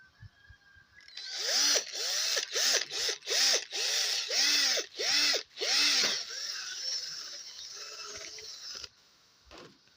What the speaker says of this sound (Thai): ฝาทำการเจาะรูนะครับ